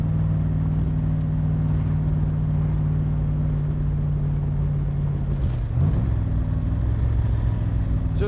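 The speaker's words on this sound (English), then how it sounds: "Just love going through the gears." A 1965 Shelby Cobra replica drives along with a steady engine drone, the pitch dipping and rising around a gear change midway, heard from inside or close by.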